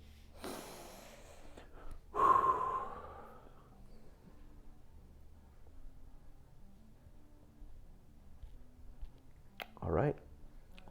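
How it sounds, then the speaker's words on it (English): Deep, audible breaths during a passive forward-leaning stretch in a bodyweight aerobic workout, with a strong inhale-exhale near the start and another breath close to the end, separated by quiet. "Take a few deep breaths here."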